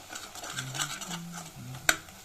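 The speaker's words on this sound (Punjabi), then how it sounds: "ਹੁਣ ਆਪਾਂ ਇਹਨੂੰ ਦੇਸੀ ਘਿਓ ਨੂੰ ਥੋੜਾ ਜਿਹਾ ਵਿੱਚ ਮਿਕਸ ਕਰ ਲਵਾਂਗੇ" A spoon stirring desi ghee into a cooking amla mixture in a pan, soft scraping strokes in a slow rhythm, quiet and close, with a single sharp clink of utensil against the pan near the end.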